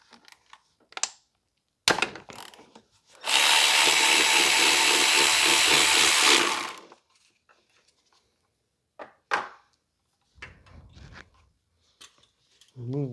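Power tool work removing nuts and bolts from a 2005 Toyota Corolla engine during an oil dipstick tube replacement: one loud, steady burst of about three seconds, set between scattered clicks, clanks and short handling noises.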